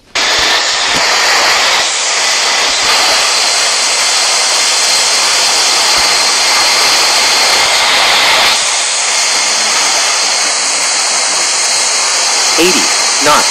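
Jet airliner engines roar steadily at high thrust during the takeoff roll in Real Flight Simulator, a loud sustained whine and rush with slight shifts in pitch.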